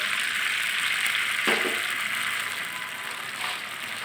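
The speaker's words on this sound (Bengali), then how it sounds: "কড়াইতে তেল গরম করতে দিয়ে দিলাম পরিমাণ মতো সরিষার তেল" Mustard oil heating in a wok: a steady, hissing sizzle fills the moment, with a couple of brief metallic clicks or taps partway through, fairly close and even in level.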